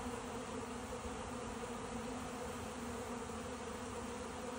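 Honey bees buzz steadily around backyard beehives on a warm day, a dense, continuous drone of many insects with no breaks and no talking.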